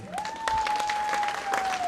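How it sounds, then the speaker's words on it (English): Audience at a women's summit morning session gives a short burst of applause, a moderate, steady clapping wash with a faint sustained tone running beneath it. "Can we give another big round of applause to all the women in this audience?"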